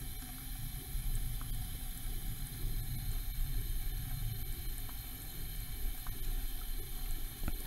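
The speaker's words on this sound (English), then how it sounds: "Bring your hand under the faucet." A kitchen faucet runs in a steady, even rush of water close by, with no break or change in flow and no one talking.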